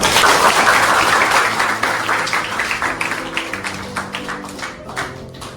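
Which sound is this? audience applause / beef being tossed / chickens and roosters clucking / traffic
audience applause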